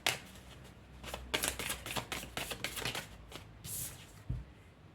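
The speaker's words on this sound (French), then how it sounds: "il faut que je tire toutes les cartes" A deck of tarot cards is shuffled and drawn up close, a run of crisp riffling flutters and slaps in quick, uneven bursts, then a quieter pause.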